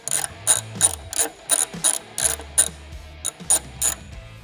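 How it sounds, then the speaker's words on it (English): A ratchet fitted with a T45 Torx bit clicks out a rear screw on a Harley Breakout or Fat Boy sissy bar mount, sounding about ten crisp, rhythmic bursts of pawl clicks close by. "for the rear, same thing, T45 Torx, and remove this screw here"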